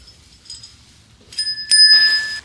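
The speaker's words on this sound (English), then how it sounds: "First of all, Kai wanted a bell" A small bell rings out clearly with a bright, sustained ding that lingers and fades over the last second, preceded by faint rustling and handling noise.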